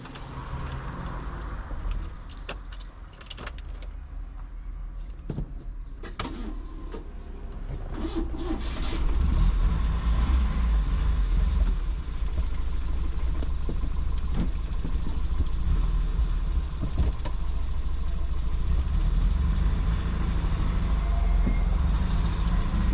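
A Peugeot 304 car starts and drives off on a test drive, its mid-pitched engine rumbling steadily and growing louder and fuller after the first several seconds, with no talking.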